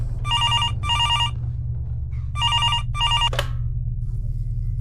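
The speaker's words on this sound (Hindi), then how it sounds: "अभी वो घर पहुंची ही थी कि उसका फोन बजा" A telephone rings in two pairs of bright, trilling bursts with short gaps between, followed by a sharp click, over a steady low hum.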